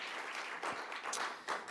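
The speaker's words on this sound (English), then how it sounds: "would you give Saskia an amazing round of applause for putting this all together?" Audience applause for Saskia at a live event, a brief burst of steady clapping at moderate distance with a few sharper claps standing out.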